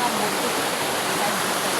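A river in a rural Philippine landscape rushes in a steady, loud, broadband wash of flowing water, continuous throughout with no pauses.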